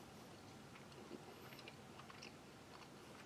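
Soft, close chewing of tender pot roast meat from a 2003 U.S. MRE, Menu 19, with faint moist jaw sounds and a couple of small ticks, heard alone and quiet for a few seconds.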